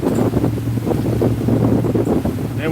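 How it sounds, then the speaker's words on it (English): Wind buffeting the microphone and waves slapping the hull of a boat crossing Albemarle Sound, a loud, steady rushing roar with irregular splashes throughout, no talk. "I'm enjoying a little bit of wind"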